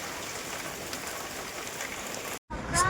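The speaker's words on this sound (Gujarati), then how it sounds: "જોઈ શકો છો વરી પાછો સ્ટાર્ટ થઈ ગયો છે ફૂલ વરસાદ" Heavy rain pours down in Kutch, a steady dense hiss of drops striking surfaces that cuts out for a moment near the end.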